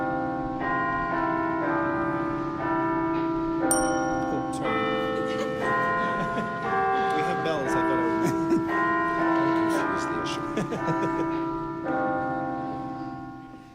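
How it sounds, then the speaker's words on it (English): A sustained tolling bell rings over orchestral accompaniment in the opening of Puccini's opera Suor Angelica, the steady resonant strokes blending with sustained tones and gentle chimes at moderate volume throughout. "Jonathan, adding your own bell there"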